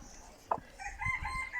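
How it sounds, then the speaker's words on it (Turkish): A rooster crows close by, with chickens clucking around it; a short sharp call stands out briefly before the crowing rises. "horozlarını da görelim, tavuklarını da görelim."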